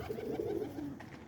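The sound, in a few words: pigeon (DeMarino-bred bird) cooing in loft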